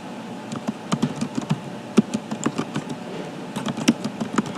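Typing on a computer keyboard while writing a newsletter in MS Word: quick, irregular key clicks close by, with a few heavier strokes mixed in and no talk.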